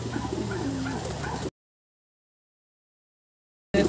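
Racing pigeons coo softly in a loft, a low murmuring under faint background noise, cut off abruptly midway.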